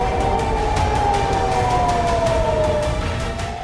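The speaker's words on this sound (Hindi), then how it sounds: "लगातार सायरन बज रहे हैं" Air raid sirens wail continuously over Tel Aviv streets after a missile attack, a steady sustained tone slowly sliding downward, moderately loud amid dense background rumble.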